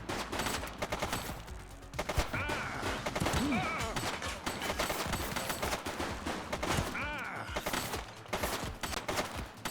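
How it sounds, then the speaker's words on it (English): Gunfire in the police video game The Precinct: rapid bursts of shots and a sustained fusillade, loud and dense, with voices speaking in between. "Shots fired!"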